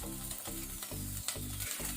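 Onion and a sprig of curry leaves frying over a medium flame in a pan, a steady close sizzle with rhythmic bursts as the pieces are stirred, no voices.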